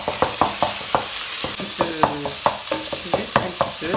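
Minced meat frying in a pan as filling for a stuffed leg of lamb, with a steady close sizzle broken by regular sharp scrapes and clicks of a utensil stirring, and no voices.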